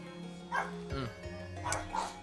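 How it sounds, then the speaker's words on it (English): Several dogs barking indoors in a few short, fairly loud yaps and woofs, with a low steady hum underneath. "I'm just making all my dogs bark."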